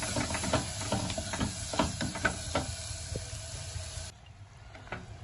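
A pot of fish curry bubbles with a hissing, steamy simmer and irregular pops and clatters, ending abruptly in quieter background.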